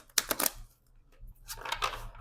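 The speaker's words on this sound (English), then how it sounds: "let's shuffle." Tarot cards are shuffled by hand in two quick bursts of riffling flutter and clatter, close and crisp, with a short pause between them and no speech.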